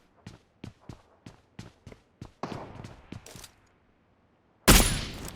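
Gunfire in a first-person shooter video game: a run of seven sharp, evenly spaced shots, then a denser burst of rapid fire, a short gap and one loud blast near the end.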